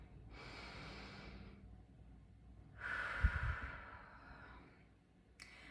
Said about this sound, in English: If you've ever been around someone who takes a deep breath like that